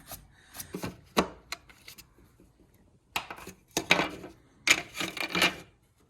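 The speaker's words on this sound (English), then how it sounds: "we're going to rub the surrounds down. We'll get like all the stone chips out and just get them a bit smoother" Rubbing down the front-end surrounds of a Ford Sapphire RS Cosworth to remove stone chips: close bursts of scratchy, rasping strokes in quick runs separated by short pauses.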